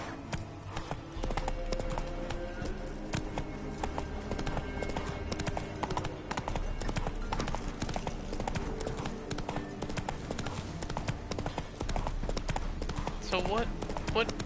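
Geralt's horse Roach galloping in The Witcher 3: Wild Hunt Enhanced Edition on PS5, a steady rapid clip-clop of hooves running throughout, with someone talking over it.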